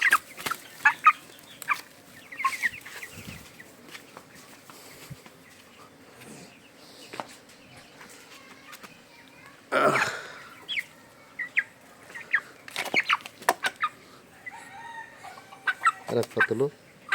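Chickens cluck and call in scattered bursts, some close and loud and others faint, over a quiet outdoor background while a person talks at times.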